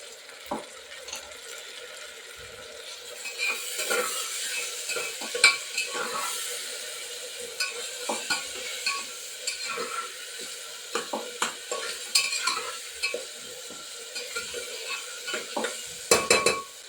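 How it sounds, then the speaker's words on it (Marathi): Chopped onion and tomato sautéing in a pan, a soft continuous sizzle with irregular scraping and clinking of a spatula against the pan as it is stirred, moderately close and fairly quiet. "टोमॅटो आणि कांदा छान असे परतून झाले"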